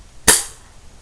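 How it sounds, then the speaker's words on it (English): A single sharp crack from a pellet rifle fired at a squirrel nest outdoors, one brief close shot that trails off quickly into quiet. "we're fixing to shoot this nest right here with the pellet rifle"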